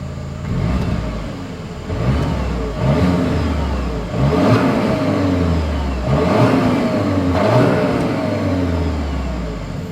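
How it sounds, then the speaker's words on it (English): A 2024 Volkswagen Atlas engine revs repeatedly with its exhaust note, swelling and falling in several loud pulses over a steady running drone, with no talk. "As always, here is that exhaust clip."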